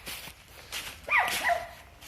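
Several dogs out on a walk where dogs gather, one giving short yips and whimpering cries partway through, with light footsteps and rustle around them at moderate distance.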